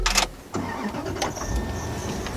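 A Bentley car engine cranks and fires up from inside the cabin, a short starter burst followed by a steady idle hum with a few mechanical clicks, heard alone without talk.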